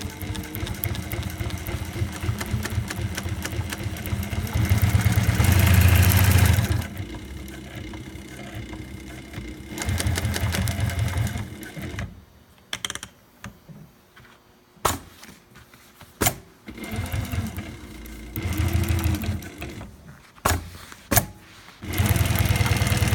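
A SEWPRO 1508L-18H long-arm sewing machine runs in bursts, with a fast motor whir that starts, stops and restarts, then a few sharp clicks and knocks during pauses, heard close by.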